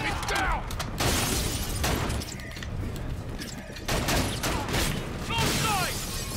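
Gunfire in the video game Call of Duty: Infinite Warfare: several sharp broadband shots and short bursts spread through the clip over steady, busy in-game noise, with no talking.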